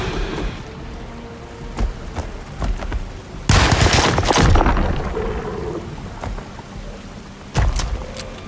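Gunfire in the 2024 survival horror game Alone in the Dark, played as Edward Carnby: scattered single shots, then a loud, dense burst of rapid blasts in the middle, fading, with one more sharp shot near the end.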